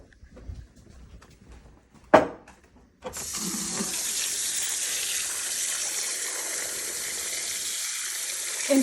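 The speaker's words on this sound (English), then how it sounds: "let's go fill this up in the sink" A kitchen sink tap fills a pot with water: a few quiet clunks and one sharp knock, then a steady, close rush of running water for several seconds.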